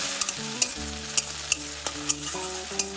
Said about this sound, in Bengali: টমেটোটাও ভালোভাবে একটু তেলে নাড়াচাড়া করে দেবো